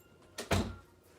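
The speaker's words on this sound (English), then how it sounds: "Demaje, open that door" A door is opened indoors with a short muffled thunk and a brief rush of movement, fairly quiet and alone.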